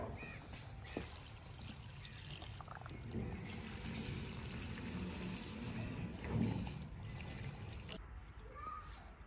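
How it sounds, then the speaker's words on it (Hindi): Half a litre of water pours steadily into a clay cooking pot with a continuous trickling, splashing sound, stopping abruptly near the end. "चलो जी, पानी डालो हाफ लीटर।"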